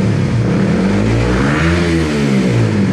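A Suzuki Raider 150 FI motorcycle engine is revved during ECU calibration, loud and close, climbing in pitch and then falling back over three seconds, with no speech.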